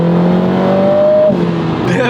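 A Lotus Emira I4 sports car accelerating hard, its engine note climbing steadily in pitch from inside the cabin before a brief gear change and a rising rev again, loud and continuous.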